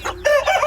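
A rooster crows once, loud and close, a short harsh call let out among released chickens at a backyard coop, with a brief lower cluck just before it and no talk.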